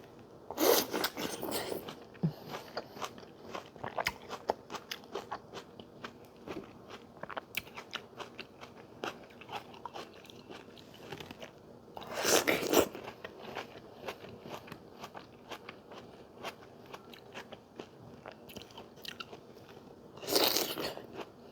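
Crisp bites into a fresh, juicy raw tomato, with two louder crunches standing out among quieter wet chewing and mouth sounds, close and without speech.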